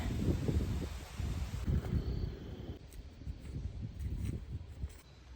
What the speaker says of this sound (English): it's super windy out here as this cold air is coming in